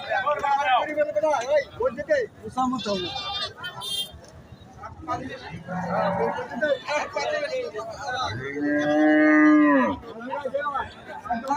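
Cows at a cattle market give long, loud moos, the clearest one near the end, mixed with someone talking and surrounding crowd chatter.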